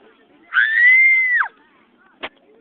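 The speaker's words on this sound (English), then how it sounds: "Why are you screaming?" A single sustained high-pitched scream from a person lasts about a second, sharp and loud against a quiet room, followed by a brief click.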